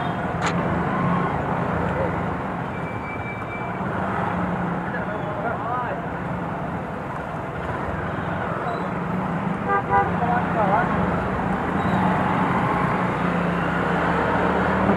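Constant roadway noise from a traffic jam fills the scene, with occasional car horns tooting over the steady rumble and people talking underneath.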